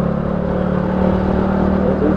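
A Yamaha Mio Soul MX motor scooter engine runs steadily while being ridden near Cipanas, a continuous loud drone with a low hum throughout, no voices.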